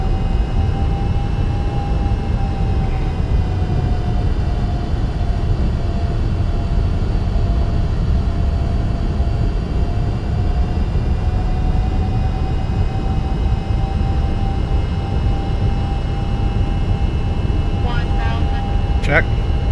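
Steady droning jet engine hum of a Boeing 757-200F freighter in X-Plane 12, a continuous loud whine with a slowly wavering tone, heard alone from start to finish.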